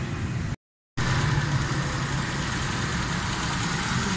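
A Suzuki Khyber car fitted with an Alto carburetor idles steadily, a close, even engine rumble with a brief silent gap near the start.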